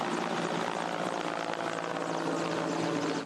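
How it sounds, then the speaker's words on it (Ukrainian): A firefighting helicopter flies over a wildfire carrying water for a drop, its rotor and engine producing a loud, steady, unbroken roar throughout with no voices. "Однак остаточно впоратися з вогнем допомагає вертоліт."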